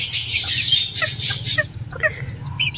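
A white rooster and hens cluck close by in a poultry yard, a steady run of short clucks and calls over a low background hum.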